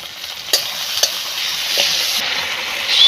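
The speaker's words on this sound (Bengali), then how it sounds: "এবারে আদা রসুনের বাটা দিয়ে দেবো" Ginger-garlic paste sizzles in hot oil with frying tomatoes and onions for a fish curry. A steady, fairly loud frying hiss runs throughout, broken by a few sharp stirring clicks near the start.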